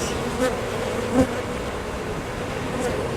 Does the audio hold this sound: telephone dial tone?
no